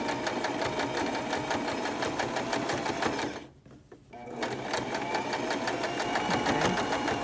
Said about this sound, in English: Stitching the seam down to the pocket side.